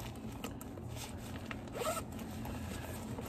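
A zipper with light gold hardware runs on the back pocket of an MZ Wallace Small Sutton Deluxe bag, a soft, close, quiet rasping pull lasting a few seconds with no talking.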